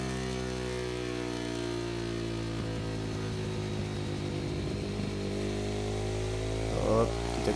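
A Zongshen 190 motorcycle engine on a dynamometer gives a steady close drone, with a few short throttle blips as it warms, its pitch rising briefly and falling back.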